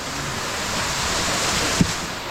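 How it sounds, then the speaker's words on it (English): A forest waterfall, one of many along a cave trail, giving a steady, broad rushing roar that holds constant, with a single brief thump near the end. "Another waterfall here."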